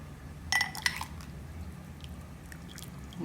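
Spoon scooping and clinking against dishes while mulberry leaf tea is prepared, a brief cluster of close metallic taps followed by quieter faint handling in a still room.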